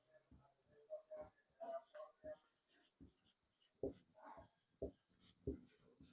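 A marker or chalk scratches across a board in short, irregular strokes during a lesson on raga classification, faint and close, with quiet speech-like sounds mixed in.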